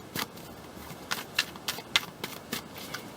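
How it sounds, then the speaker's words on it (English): Tarot cards being shuffled by hand, a series of soft papery riffles and flicks, about eight quick bursts spread unevenly across a few seconds, close and fairly quiet with no talk. "Now, I'm going to try to continue shuffling here."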